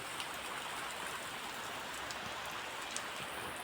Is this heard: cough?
no